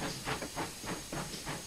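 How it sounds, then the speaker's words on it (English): Steam locomotive chuffing on the Falmouth branch line in Train Sim World, a rhythmic series of about five hissing exhaust beats at a steady pace, moderately loud and unaccompanied by talk. "Ooh, what's that train? I can hear a train."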